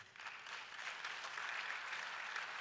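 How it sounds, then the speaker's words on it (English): Attendees at the African Development Bank 2022 Annual Meetings applaud, a soft, distant wash of many hands clapping that rises slightly and stays steady throughout. "Il faut l'applaudir là."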